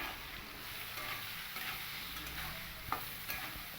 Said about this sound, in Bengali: এবার এই এঁচড়ের মধ্যেও আমি সামান্য একটু লবণ আর হলুদ দিয়ে এঁচড়টাকেও কিন্তু লাল করে ভেজে নেব